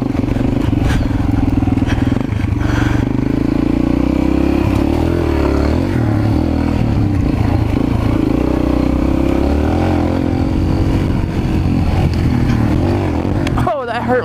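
A mini bike engine revs hard and steady as its back tire spins while climbing a big hill, a loud continuous drone with rough clatter, ending in a sharp burst of noise.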